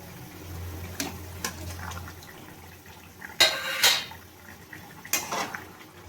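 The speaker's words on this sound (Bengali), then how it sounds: "এবার আমি মাছগুলো দিয়ে দেবো।" Rohu fish pieces going into a pot for a thin Bengali curry, heard as sparse clinks of utensils against metal and a couple of louder clattering splashes in a quiet kitchen.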